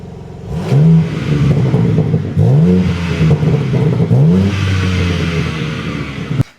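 A BMW M4 Competition engine in Sport Plus mode revs repeatedly in sharp bursts, rising and falling three times with a throaty, aggressive tone, close and loud.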